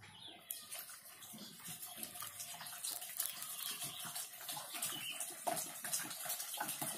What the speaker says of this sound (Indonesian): Air cucian beras tadi yang kita gunakan kurang lebih 3 liter. Jadi kita masukkan perlahan sedikit demi sedikit